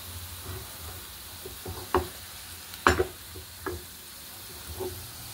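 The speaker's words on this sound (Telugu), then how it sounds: "ఇప్పుడు మనము ఈ తాలింపు కూడా కట్టేసుకుందామండి" Continuous soft sizzling of hot tempering poured into lentil soup in a pot, punctuated by several sharp spoon knocks and metallic clinks at irregular intervals.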